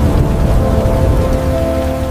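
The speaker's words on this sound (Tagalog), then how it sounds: "Basa na ako sa ulan." Heavy rain pours steadily on a rainy night, a loud dense wash with a low rumbling undertone, continuous and unbroken, with no voices.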